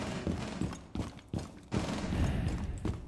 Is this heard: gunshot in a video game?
yes